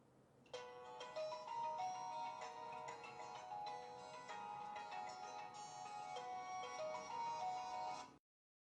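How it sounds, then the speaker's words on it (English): A Samsung phone ringtone built from soothing nature sounds plays as a layered, bright melodic tone with chiming notes, steady and fairly clear for several seconds before stopping abruptly. "The alarms and ringtones are filled with soothing sounds of nature too."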